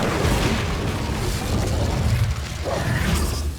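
An Incendio fire spell cast in Hogwarts Legacy, a continuous roaring, crackling burst of flame that sustains for several seconds with a steady, full-bodied rush.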